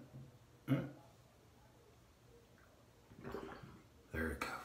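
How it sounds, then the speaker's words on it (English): A household sink drain burps and gurgles in a few short bursts, one near the start and two later, fairly quiet with a low bubbling quality and no talk over it. "You're about to hear my sink burp."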